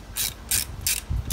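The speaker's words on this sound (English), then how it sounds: "remove the support mount bolts that are located on the sides of that top mount intercooler" A hand ratchet clicks in three quick bursts, close and loud, as it backs out the side support bolts of a top-mount intercooler on a Subaru EJ-series engine.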